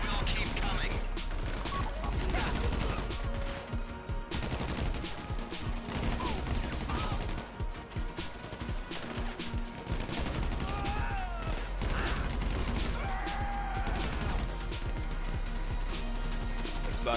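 Gunfire in the video game GTA V during a heist: rapid bursts of automatic weapons and sharp shots crackle continuously and loudly alongside crashes and impacts, while players talk over the din.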